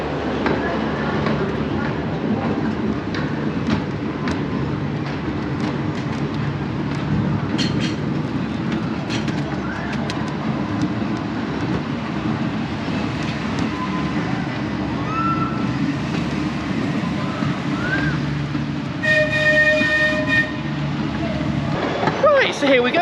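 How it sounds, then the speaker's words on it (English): Pleasure Beach Express amusement park train ride at Blackpool, a steady low rumble of the moving train running throughout, with faint clicks and a brief tonal squeal near the end, under occasional nearby talk. "So here we go then, on the Pleasure Beach Express, so having a nice little ride."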